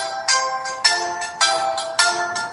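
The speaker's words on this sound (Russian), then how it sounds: "звонил телефон давай" A telephone rings with a bright electronic melodic tone, repeating in a steady pattern of four bursts roughly every half second, loud and alone.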